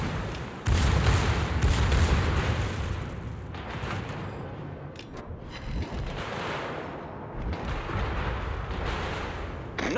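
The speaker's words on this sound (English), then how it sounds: "Concentrate fire on that enemy warship." Battleship main guns in World of Warships fire in heavy booming salvos, with a big close blast early followed by further rolling detonations and rumbling, loud and repeated over continuous battle noise.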